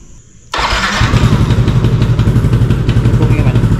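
A Yamaha NMAX scooter engine, just rebuilt with an R15 piston and a new IAC valve, fires up after a short quiet moment and settles into a loud, steady, close idle with a faint ticking clatter.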